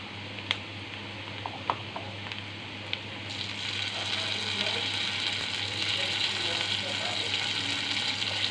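Ginger and garlic paste frying with softened onions in a pan for an egg and eggplant curry: a few sharp clicks, then a steady close hiss of frying that swells and holds.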